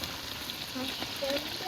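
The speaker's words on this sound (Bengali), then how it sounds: "এখন মাছগুলো দিয়ে ভালো করে কষাই লমু" Fish frying in spice masala to make katla and rui kacha bhuna sizzles with a soft, steady hiss and faint crackles, close and alone.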